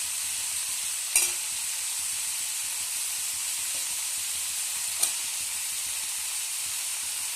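Pumpkin pieces fry in a pan with a steady, moderately quiet sizzle, and two brief clicks of stirring break through the hiss.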